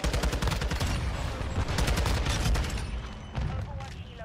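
TAQ-56 rifle firing in Modern Warfare 2, a loud, rapid stream of shots that continues for about three seconds, briefly eases, then breaks into a few short, sharp bursts near the end.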